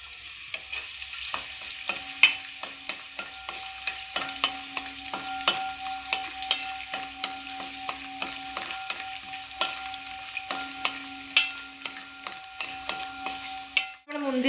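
Raisins and cashews fry in ghee in a pan for jackfruit payasam, a steady soft sizzle running under repeated scraping and stirring strokes throughout, with no talking.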